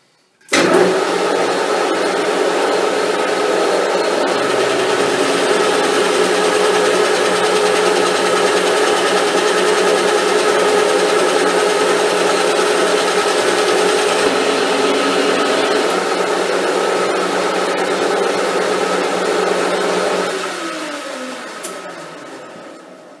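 Metal lathe drilling and boring a hole for a spherical bearing race, a loud continuous machining whine and hum that starts abruptly, holds steady for about twenty seconds, then winds down.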